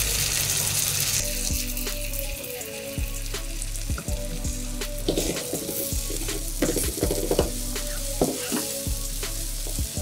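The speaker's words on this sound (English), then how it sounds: "So I'm going to be adding some pepper." Pureed pepper goes into a hot pot of pigeon peas, giving a loud, steady sizzle and frying crackle with intermittent stirring clatter and scraping, no talk.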